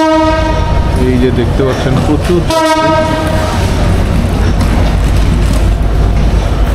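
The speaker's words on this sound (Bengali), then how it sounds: "আমাদের ট্রেন ছেড়ে দিল ভেড়ামারা" At Bheramara station in Bangladesh, the Chitra Express lets out two long, loud harmonic horn blasts over the rumble of the train, while someone talks partway through.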